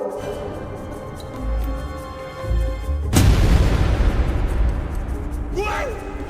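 A single loud firecracker bang bursts out after a few seconds of background noise, followed by a crackling fizz and a brief high whistle.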